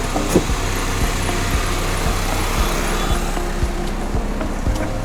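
A car's engine hums steadily among other road traffic noise at a zoo park in Tirupati, fairly constant and moderately distant, with brief knocks and clatters scattered throughout and no talking.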